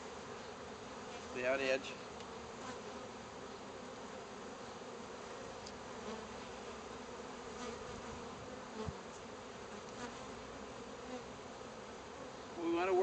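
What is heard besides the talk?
honey bees buzzing on a frame of pollen and honey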